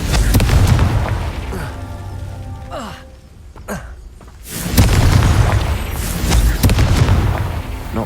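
Confringo explosion spell in Hogwarts Legacy, a loud booming blast with rumbling low end, a brief lull of quieter crackles, then another heavy roaring burst continuing to the end.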